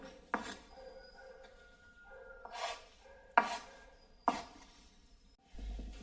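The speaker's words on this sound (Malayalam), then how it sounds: "എന്നിട്ട് ഈ വെള്ള പാർട്സ് ഇതുപോലെ ഒന്ന് മുറിച്ചെടുക്കണം." A knife slicing boiled egg whites on a board, with the yolks already set aside, gives a few quiet, sharp chops spaced unevenly, each a crisp tap with short scraping between, and no voices.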